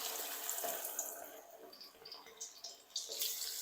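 Marinated chicken pieces frying in hot oil over medium-high flame, a soft continuous crackling sizzle at close range with small pops throughout.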